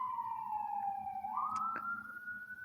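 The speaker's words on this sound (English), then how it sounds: "when you hear sirens like that" An emergency-vehicle siren wails alone at moderate distance, a long tone sliding down and then back up, with a brief electronic blip partway through over a low road rumble.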